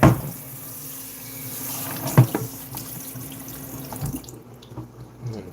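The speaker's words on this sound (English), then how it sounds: "Wash the pumpkin." Tap water runs into a kitchen sink as a pumpkin is washed, with a loud splash at the start and another midway, then the flow thins and trails off.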